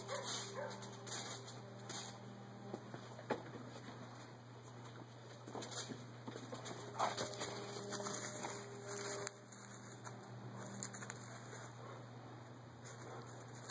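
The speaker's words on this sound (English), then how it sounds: "Let me let the dogs in. They're distracting." Several dogs barking outdoors, with scattered yips and short barks over a quiet background, heard at a distance rather than up close.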